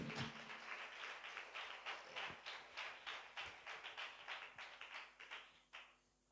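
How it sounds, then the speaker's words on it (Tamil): A church congregation claps their hands together in a steady, rhythmic beat of many palms, heard faintly and somewhat distant, continuing for several seconds before stopping abruptly. "நல்ல ரெண்டு கையை தட்டி"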